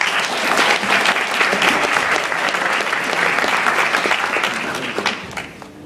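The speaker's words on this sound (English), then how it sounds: "Let's give Priscilla a round of applause." Sustained applause from a sizable crowd, steady and loud for several seconds before tapering off at the end.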